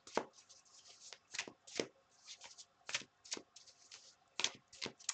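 Tarot cards being shuffled by hand before one more card is drawn, a close run of crisp riffling and slapping bursts in an uneven rhythm with no talking.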